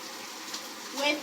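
Warm shower water streams over curly hair to rinse out conditioner in an all-electric home, a steady close hiss of spray with a brief voice-like swell near the end.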